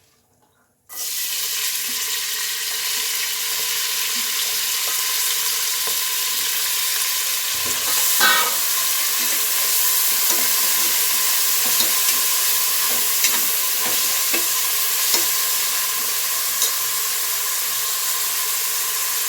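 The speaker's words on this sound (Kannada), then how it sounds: "ಎಣ್ಣೆ ಕಾದಿದೆ. ಈಗ ಒಂದು ಕಟ್ ಮಾಡ್ಕೊಂಡಿರೋ ಈರುಳ್ಳಿ ಮತ್ತು ಒಂದು ಸ್ವಲ್ಪ ಪುದೀನ ಸೊಪ್ಪು, ಸ್ವಲ್ಪ ಪಾಲಕ್ ಸೊಪ್ಪು ಹಾಕ್ತಾಯಿದ್ದೀನಿ." Chopped onion, mint and spinach hit hot oil and set off a sudden, loud, continuous sizzle that stays steady for many seconds. A few faint clinks of a stirring utensil sit under it, heard up close without voices.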